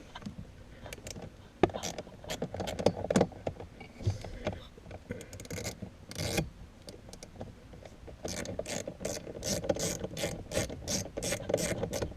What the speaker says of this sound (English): So you have to take these screws out.